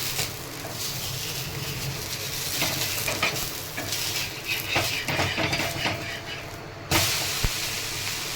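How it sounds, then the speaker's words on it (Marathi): Semolina uttapam sizzles steadily in oil on a hot tawa (griddle) and is flipped, a constant close frying hiss broken by scraping clicks and a firm thump near the end. "छान साईडने तेल टाकून घेतलेलं आहे आता आहे ना पलटी करून घेणार आहे"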